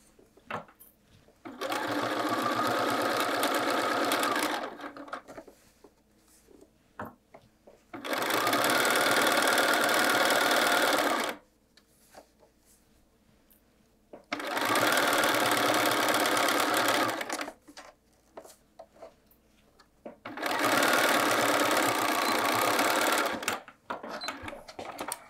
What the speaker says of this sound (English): I'm just going to stitch from one side to the other.